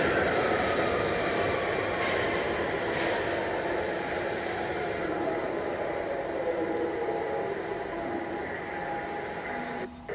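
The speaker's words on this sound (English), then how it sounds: "And here we're on the platform, waiting for the train. Here comes the train." A London Underground train rumbles in with screeching wheels and a steady roar, high squeals ringing out as it pulls into the station platform.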